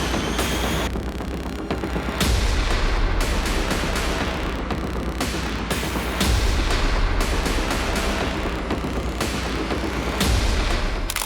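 Long-range sniper rifle fire, a series of loud, sharp cracks and booms spaced a second or two apart, each ringing out with a rumbling tail over constant background noise.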